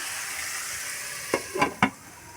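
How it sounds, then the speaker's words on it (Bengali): Cauliflower, carrot and beans sizzle steadily in oil in a wok, a constant close hiss. Near the end, three quick scraping or clanking stirs cut through the frying, and no one speaks. "কড়াইতে দিয়েছি ফুলকপি গাজর আর বিনস একসাথে ভাজতে দিয়ে দিয়েছি"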